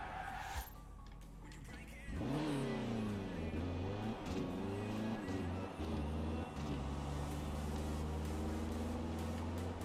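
Renault Megane RS engine in Forza Horizon 4, revving with wavering pitch and tyre squeal during a drift, fairly close and continuous, with someone talking over it.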